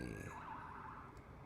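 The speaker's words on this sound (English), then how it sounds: "Oh, there's the ambulance." A faint ambulance siren passes outside, its wavering wail sounding distant and muffled behind quiet background noise, with no voices.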